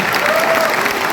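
Steady, close clapping from a seminar audience in a brief, even burst of applause.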